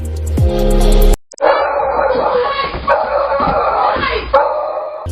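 A pet dog attacking a delivery man yelps and barks loudly up close, then a rapid, agitated flurry of snarling and whimpering noises continues.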